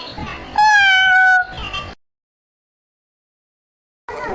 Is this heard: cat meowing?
yes